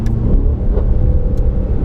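Deep, loud engine rumble of a 670 hp race car driven on the road, with a few sharp exhaust cracks and pops punctuating the steady drone, heard close from inside or near the vehicle.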